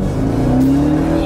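A new Hellcat all-wheel-drive truck accelerating hard, its engine roaring loud and close with a rising pitch as it pulls, with a voice briefly heard over the drone.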